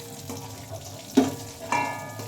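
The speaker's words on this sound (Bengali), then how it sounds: "কাজু কিশমিশ খুব তাড়াতাড়ি ভাজা হয়ে যায়।" Cashews and raisins fry in oil in a pan, giving a steady soft sizzle broken by a couple of brief stirring scrapes.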